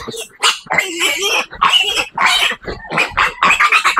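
Piglets from a first-parity sow squeal loudly and continuously while being handled on a farm. The shrill, close cries come in rapid overlapping bursts.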